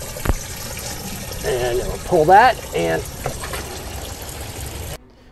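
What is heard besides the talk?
chlorinated water draining from RV fresh water tank valve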